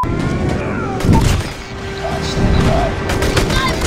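Bursts of rapid gunfire with booming impacts and mechanical clicks, loud and close, mixed with background game noise.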